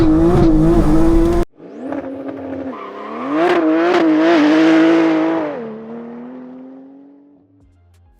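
A 1000 bhp Porsche 911 Turbo S launches hard from 0 to 60 on the street, its engine roaring loud and near in a rising surge, swelling to a peak before easing off as the car pulls away.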